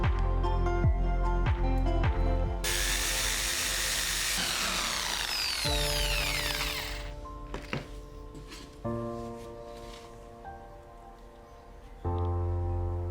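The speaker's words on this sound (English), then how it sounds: "I drill the mark using my DIY drill guide." A power drill bores into wood through a homemade drill guide, motor whining up and spinning down in several separate runs, with short knocks and clunks between bursts.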